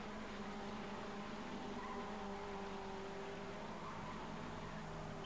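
Two-litre touring race cars in a German Group N race at Zandvoort, 1992, give a continuous dense engine roar with steady broadband noise and no clear breaks, as if several cars pass together.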